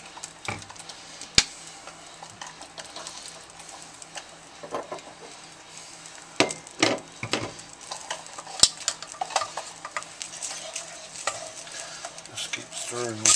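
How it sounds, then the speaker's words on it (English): Hot wing sauce is stirred in a hot pan, with a spoon scraping and clinking irregularly against the metal over a soft, continuous sizzle, all close up and without talk. "Stirring this all the time."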